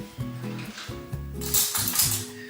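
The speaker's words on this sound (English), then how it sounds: "Let me get me a teaspoon." A metal teaspoon is picked up from among other cutlery, ringing clinks and chinks at close range, followed by a brighter rustle, with no speech.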